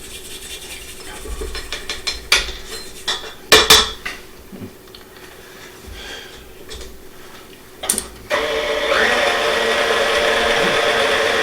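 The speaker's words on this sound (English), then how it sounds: "let me scrape this down" A spatula scrapes down a mixing bowl of German stollen dough with clattering and scraping against the bowl, then a mixer starts and whirs steadily to the end.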